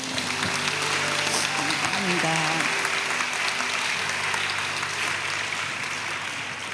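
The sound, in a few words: applause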